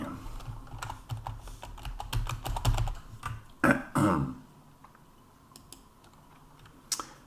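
Quick bursts of typing clatter on a computer keyboard, close and crisp, thinning to a few isolated keystrokes after a soft throat-clearing-like sound midway.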